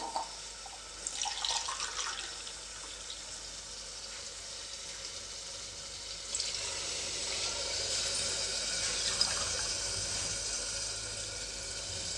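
Two glasses of water poured into a pot for North Karnataka biranji rice, a steady splashing, trickling pour that starts near two seconds in and runs on with a swelling rush, close and moderately loud, with no talk.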